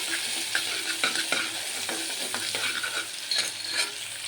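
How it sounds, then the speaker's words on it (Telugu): Green chillies fry in oil in a pan for gongura mutton curry, a steady close sizzle broken by repeated scraping strokes of a stirring spoon, with no voices. "ఇప్పుడు మనం ఇంకా 4 పచ్చిమిర్చి వేసుకొని బాగా ఫ్రై చేసుకోవాలి."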